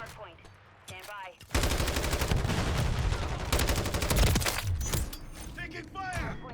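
Rapid automatic gunfire in Call of Duty: Modern Warfare III multiplayer, a sustained loud burst of several seconds with bits of game voice before and after.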